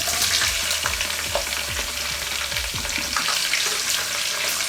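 Green chillies and onions frying in oil for mutton keema, a steady close sizzle with a series of low thuds and stirring knocks in the first few seconds, no voices.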